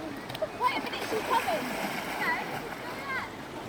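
River water rushes and splashes steadily at Hexworthy Bridge on Dartmoor, a continuous broadband wash with a few faint bird chirps above it.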